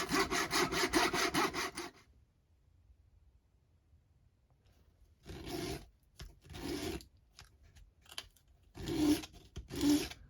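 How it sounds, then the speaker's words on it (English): A small hand saw cuts a corner off a tiny wooden piece for a 1:12 scale miniature, with rapid back-and-forth rasping strokes close up, a pause, then several shorter bursts of sawing. "I'm going to cut off a small corner of each of"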